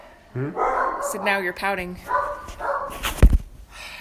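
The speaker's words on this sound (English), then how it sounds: "And there go the dogs again." Dogs bark in short bursts somewhere in the background, fairly distant, while a person keeps talking over them.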